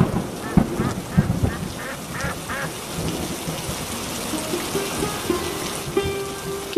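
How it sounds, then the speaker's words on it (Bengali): Heavy rain pours steadily throughout a cartoon scene, with low thunder rumbling underneath. Faint rhythmic sounds come and go over the downpour, and there is no speech. "বৃষ্টি তো কমছেই না দেখছি"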